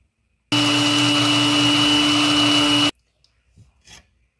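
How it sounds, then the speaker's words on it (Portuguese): A blender grinding eggshells and charcoal roars loudly and steadily for a couple of seconds with a strong hum, then cuts off abruptly, leaving faint rattles and a brief hiss. "Uma vez vai bater o liquidificador."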